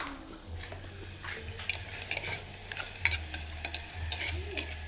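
Corned beef sautés in a pan with a soft, constant sizzle, broken by light scrapes and clinks of a utensil stirring against the metal, fairly quiet and close.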